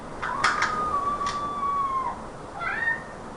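A frightened kitten gives a long, wavering meow, then a shorter rising one, faint and close against a quiet indoor background, scared by a storm outside.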